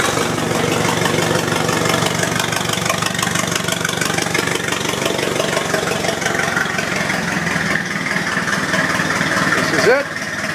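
A steady, dense 1913 Fiat Tipo 55 9-litre four-cylinder engine running on magneto continuously at a constant pace, fairly loud throughout, with a brief change near the end.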